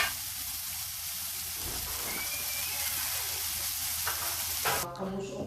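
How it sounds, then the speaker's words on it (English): A burger patty sizzles on a grill for a Cajun-Filipino style hamburger, a steady close hiss and crackle that holds for several seconds before shifting abruptly near the end. "while we're grilling the burger"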